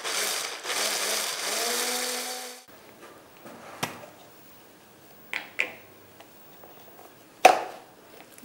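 A mixer grinder whirs for about two seconds, grinding soaked, peeled almonds into a paste, then cuts out, followed by scattered knocks and clatter from handling the jar.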